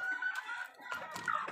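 A rooster crows and clucks in short, close bursts, with two distinct calls separated by a brief pause.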